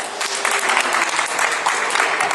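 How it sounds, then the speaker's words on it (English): A room of people applauds steadily after a classroom electricity demonstration, dense continuous clapping filling the whole stretch at an even, fairly loud level with no voices over it. "Everybody give Ben a round of applause."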